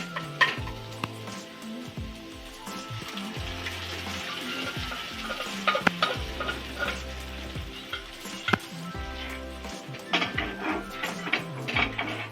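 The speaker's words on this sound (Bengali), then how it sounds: "এবার আমি ডালটা ঢেলে দেবো।" Lentil dal with raw tomato goes into a hot pan and is stirred, bringing a frying sizzle with scattered clinks and scraping strokes over a steady low drone; nobody talks.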